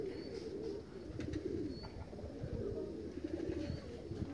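Domestic pigeons cooing in a loft, low repeated rolling coos close by over a steady murmur of flock sounds and soft fluttering.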